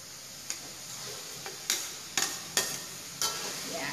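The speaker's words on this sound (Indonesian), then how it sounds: "Ya, kita aduk dengan rata semuanya, supaya bumbunya meresap." Fried potato cubes are stirred into sambal in a frying pan, about six sharp scraping clacks of a utensil against the pan spaced irregularly over a soft continuous sizzle, quiet and close with no talking.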